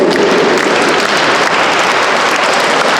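Dense, steady applause from a children's music school audience at a reporting concert in Sambir, loud and continuous throughout with no voices standing out.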